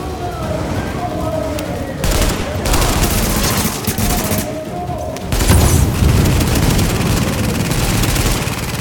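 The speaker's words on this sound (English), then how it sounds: "Grenade." Gunfire and a grenade explosion in The Division game form a dense, loud barrage of shots and booms, with a heavy low thump midway and players talking beneath the combat.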